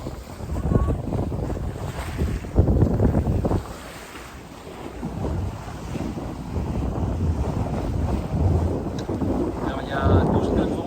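Wind of about 12 knots rushes over a sailboat at sea in the Iroise Sea, with steady buffeting gusts on the microphone and the wash of waves against the hull, while a voice is faintly present.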